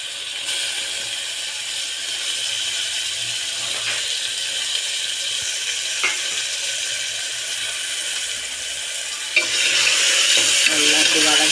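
Small pieces of goat spleen, washed with turmeric, sauté in a pan with a steady sizzle and occasional scrapes and clicks of stirring, growing louder near the end.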